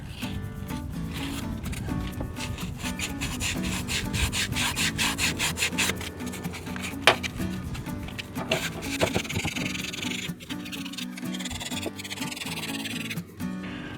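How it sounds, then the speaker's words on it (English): Continuous rough scraping of a sanding block on painted wood, back-and-forth strokes in a steady rhythm, close by, with occasional knocks and no talking. "there's some paint on here, which I need to sand off"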